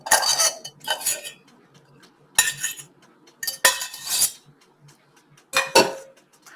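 Ramen noodles being stirred into an egg mixture in a bowl, with a utensil clinking and scraping against the dish in several short bursts separated by quiet gaps, close and clear, no talking.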